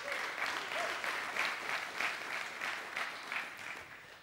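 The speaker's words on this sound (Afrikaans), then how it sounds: "Jesus se hande klap asseblief." A church congregation claps hands together in a dense, continuous round of applause, steady and lively throughout.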